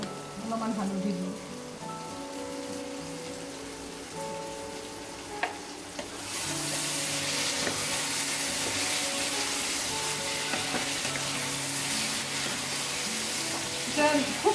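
Chicken and spices fry in a pan on an Assamese home stove, a quiet sizzle that swells into a fuller, louder hiss about halfway through, with faint clinks.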